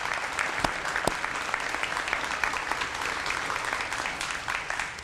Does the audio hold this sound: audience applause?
yes